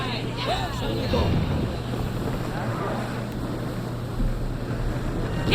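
A sailing ship cutting through open sea in Assassin's Creed Odyssey, with a steady rush of wind and water washing over the hull, a low constant drone beneath, and crew voices calling out briefly.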